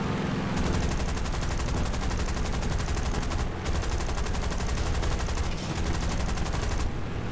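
Rapid machine gun fire from a tail gunner in the War Thunder air combat game, a dense continuous rattle lasting nearly the whole stretch with a few brief pauses between bursts.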